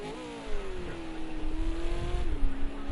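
A V8 Supercar race car in a racing video game works through a chicane, its engine note holding steady then dipping and rising again as it shifts, loud and close.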